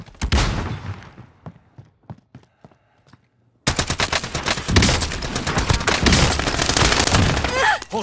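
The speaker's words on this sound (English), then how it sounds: "I am under fire" Video game gunfire: a few sharp single shots, then a sudden, loud, sustained burst of automatic fire and explosions that runs to the end, with radio-style voice chatter.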